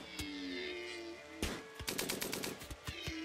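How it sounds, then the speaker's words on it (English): Machine gun fire from a hunting scene in the video game Rimworld, a quiet lead-in followed by a loud burst and then a rapid string of sharp shots that tails off. "the Russian military guy is hunting with a machine gun"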